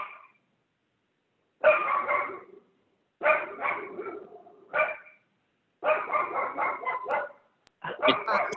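A dog barks in bursts during a Zoom meeting: several close, loud volleys of rapid barks and yips separated by short silences.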